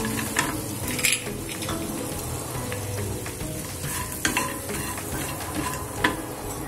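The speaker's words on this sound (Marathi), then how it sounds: "1 चमचा बटर टाकले. त्याच्यावरती ही वाटीभर मखाने टाकणार आहोत." Makhana (fox nuts) stirred in butter in a pan, a continuous close sizzle broken by the scrape and knock of a spoon against the pan, with a few louder clatters, no voices.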